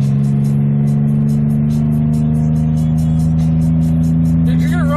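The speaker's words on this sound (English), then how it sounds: "This car is pretty fast, like literally. It's just a Chevy Impala." A Chevy Impala's engine runs with a strong, steady low hum and a faint rise in pitch, heard close and loud for a few seconds with no voices over it.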